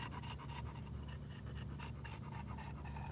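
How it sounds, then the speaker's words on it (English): A pet dog pants steadily and rapidly on a hot, still day, a close, continuous rhythmic huffing that fills the whole stretch with no talking over it. "Me and my dog, the Lily Monster."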